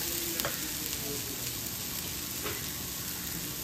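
Spices such as garam masala and ground coriander are stirred into vegetables in a hot pan for a leftover-rice tawa pulao, giving a steady low sizzle with a few faint scrapes of the spoon, no voices.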